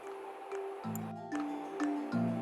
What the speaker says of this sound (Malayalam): ഇനി ഇതെല്ലാം ഇൻഗ്രീഡിയൻസും കൂടി നന്നായി മിക്സ് ചെയ്ത്